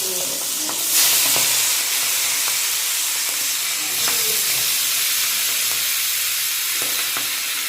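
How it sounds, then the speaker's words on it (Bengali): Fish heads fry in hot oil with salt, giving a loud, continuous close-up sizzle and steady hiss with faint crackles throughout. "মাথা ভাজা হয়ে গেছে"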